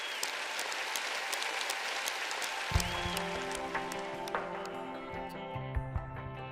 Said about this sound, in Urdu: آئیے روح القدس کے لیے بھرپور تالیاں بجائیں۔